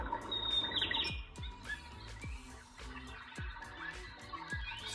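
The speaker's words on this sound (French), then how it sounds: "On aurait des styles des moineaux là, ou des pinsons qui chantent." Recorded sparrow or finch song plays from an LED night lamp, a run of bright chirps and tweets repeating in quick, steady phrases, fairly faint and close, with no voices.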